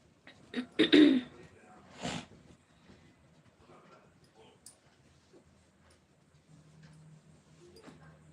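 A few sharp, throaty coughs near the start, followed by a quieter cough, then faint room noise and soft murmurs.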